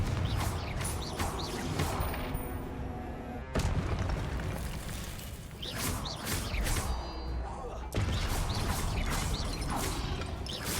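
Confringo fire spells cast in Hogwarts Legacy, heavy booming blasts and crashing impacts in dense, continuous game combat, with a player's voice mixed in.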